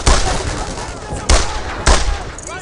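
Loud gunfire in the World War II shooter Brothers in Arms: Earned in Blood comes as three heavy, close bursts of rapid shots, each cracking out and then ringing down into a noisy battlefield tail.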